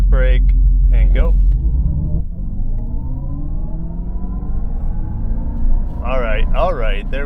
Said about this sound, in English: Activate launch control, torque brake, and go.